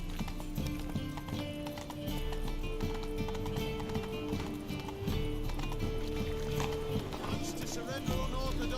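Roach, Geralt's horse in The Witcher 3, gallops with steady hoof clip-clop over a continuous bed of game music, with a brief whinny-like sound and some speech mixed in.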